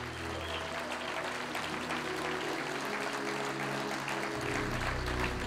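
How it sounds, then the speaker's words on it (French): Congregation applauding and cheering in a church, a dense steady wash of clapping and crowd noise with sustained music tones underneath throughout. "Tu as le droit d'acclamer le Seigneur pour ça"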